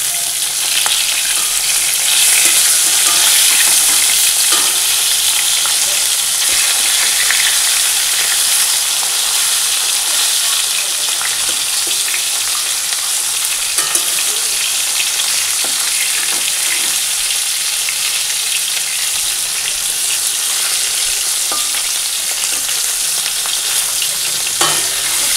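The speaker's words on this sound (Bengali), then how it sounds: "এই যে বন্ধুরা মাছ ভাজা বসিয়ে দিয়েছি" Fish sizzles steadily as it fries in hot oil in a pan, a dense, continuous crackle and hiss that stays loud and even throughout with no talking.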